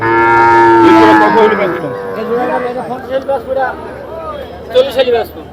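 A cow lets out a long, loud moo nearby. A busy murmur of voices and more distant lowing follow at a crowded cattle market with bargaining over calves and cattle.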